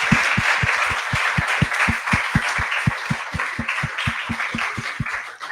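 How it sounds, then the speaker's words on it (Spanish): Students in a classroom clap together in a steady, regular beat, with fairly close thumps repeating about four times a second under a faint crowd wash. "Hoy un aplauso a las compañeras"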